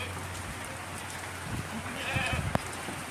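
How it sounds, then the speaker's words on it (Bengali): Steady rain hisses outdoors while goats nearby let out a few short bleats toward the end, the downpour constant and the animals close. "এখন এদিকে পড়তেছে বৃষ্টি"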